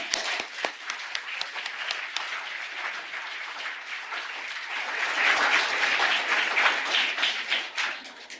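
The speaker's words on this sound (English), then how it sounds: "I would again like to give our young performers here another round of applause" Steady round of crowd applause for young student performers at a Pink Shirt Day ceremony, many hands clapping in a dense continuous wash that swells louder toward the end before tapering off.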